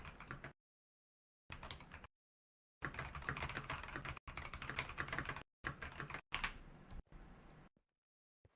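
Bursts of rapid typing on a computer keyboard, close and clicky, broken by several silent gaps, with the final burst trailing off into quiet.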